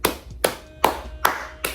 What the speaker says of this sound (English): Claps, honestly, for you and for me